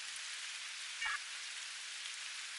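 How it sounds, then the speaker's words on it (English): Steady rain falling on the planet Ryza in the video game Star Trek Online, a soft, even hiss throughout with one brief low bump midway. "Wow, rain on Ryza?"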